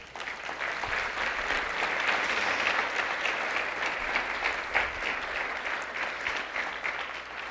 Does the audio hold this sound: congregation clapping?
yes